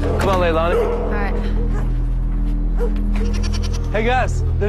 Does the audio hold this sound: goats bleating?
yes